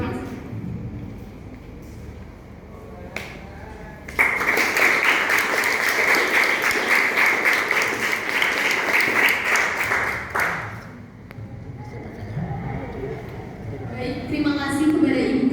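Audience at an education seminar bursts into loud sustained applause lasting about six seconds, with a speaker's voice heard before and after the clapping.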